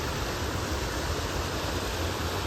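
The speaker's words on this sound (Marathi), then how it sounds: "वा कडक एकदम धबधबा जसं धबधबा" A waterfall on a river roars in a loud, unbroken broadband rush that stays constant from start to finish, close by and with no one speaking.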